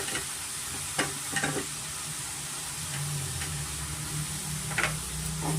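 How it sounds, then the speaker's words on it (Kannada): Potato, onion and fresh fenugreek leaves frying in a pan for aloo methi curry, with a steady close sizzle and a few soft scraping stirs of a spatula, no talking. "ಆಲೂಗಡ್ಡೆ ಸ್ವಲ್ಪ ಸಾರಿ ಈರುಳ್ಳಿ ಸ್ವಲ್ಪ ಫ್ರೈ ಆದಮೇಲೆ ನಾನು ಮೆಂತ್ಯ ಸೊಪ್ಪು ಸೇರಿಸ್ಕೊತಾ ಇದ್ದೀನಿ"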